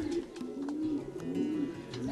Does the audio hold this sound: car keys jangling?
no